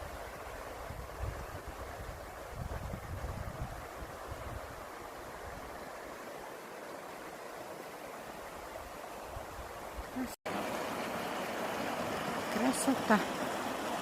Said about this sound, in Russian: Вот она, горная речка. Шумит как.